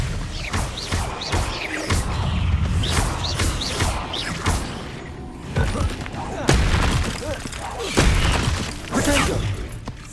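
Spell casts in Hogwarts Legacy, Incendio and Expelliarmus, land as a dense run of booming blasts, crashes and thuds, loud and close, with shattering bursts and a voice calling out the incantations over the combat.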